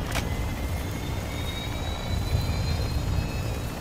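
A helicopter in the Call of Duty DMZ video game whines and rumbles steadily, a continuous engine drone at moderate level with no talk.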